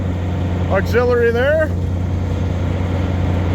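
A service truck's engine idles beside its exhaust, a steady low rumble that runs throughout under a man's brief spoken remark.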